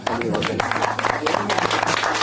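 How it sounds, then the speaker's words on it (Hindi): Scattered applause from guests at a wedding ceremony, a dense patter of many hands clapping at once that is mixed with voices and crowd noise throughout. "तो ताली बजा देते हैं बड़ा।"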